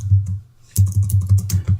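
Close typing on a computer keyboard: a short burst of keystrokes, a brief pause, then a faster run of clicks in a regular rhythm, with no talking.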